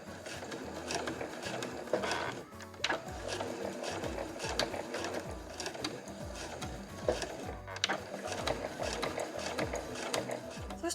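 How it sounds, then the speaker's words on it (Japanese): A domestic sewing machine tacks fabric pieces for a tissue case and pouch, stitching steadily with rapid mechanical ratcheting and short backstitch pauses, close and continuous, with no talk. "そしたらそれぞれをミシンで仮留めしていきます。"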